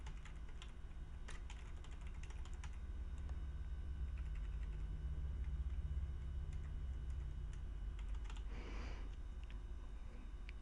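Computer keyboard typing, a steady run of quick key clicks entered one after another at close range, alone without any talk, over a low constant room hum.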